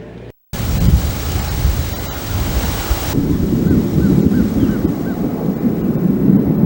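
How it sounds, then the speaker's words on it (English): A thunderstorm rolls in over peach orchards in Chilton County, a steady low rumble with wind and rain noise that deepens and grows fuller partway through. "a storm rolling in to soak the peach orchards of Chilton County"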